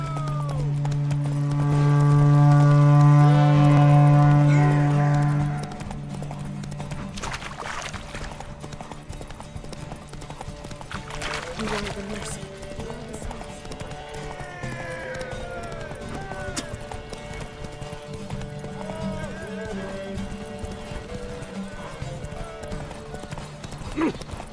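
Roach the horse galloping in a race in The Witcher III: Wild Hunt, a steady clip-clop of hooves under loud game music, with someone talking over parts of it.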